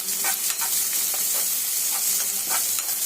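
Onions frying in a pan give a steady, dense sizzle, broken by soft scraping strokes of a stirring spoon, close and continuous with no voices.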